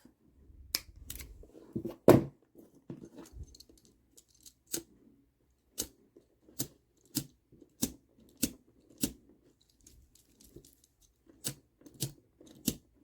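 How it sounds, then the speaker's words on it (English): Scissors snipping off the loose end of a cord while making candy cane kandi, a run of sharp, separate clicks and snips coming close and clear with brief pauses between them, and no talking. "once you have that tied, you can cut this end off"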